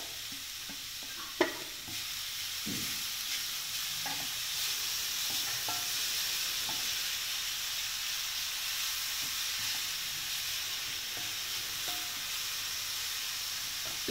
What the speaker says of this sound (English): Once the onions are sauteed, I'm going to add this finely chopped broccoli to this.